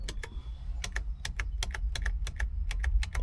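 A 2002 Toyota Camry XLE cruise control switch clicks in a quick series of sharp, close, metallic ticks over a low cabin rumble, about a dozen clicks in irregular rhythm.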